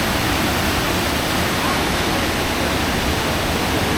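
Steady, loud roar of a powerful waterfall along a mountain hiking trail near Drimsynie Estate, a dense constant rush of crashing water with no other sounds standing out.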